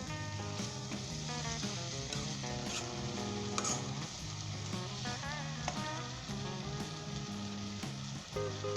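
Onions frying on a high flame for a Punjabi egg and onion curry, a loud continuous sizzle with stirring, running unbroken and close throughout.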